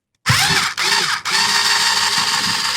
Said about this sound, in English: It's got pretty short, low power drill